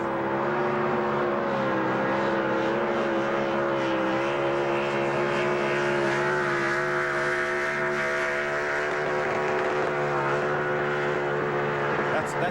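A NASCAR Craftsman Truck race engine screams at about 9,200 RPM during burnouts at Phoenix International Raceway, a sustained high-pitched roar heard from a distance under a broadcast mix.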